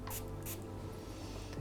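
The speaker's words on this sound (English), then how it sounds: "there is a spray bottle inside, you can directly spray it onto your skin" A rose water spray bottle gives two quick, soft spritzes close by, each a short hiss of mist, followed by a faint third spritz near the end over a quiet background.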